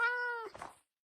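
A cat meows once in Minecraft, a short clear rising-falling cry fading out after under a second, alone with no talk.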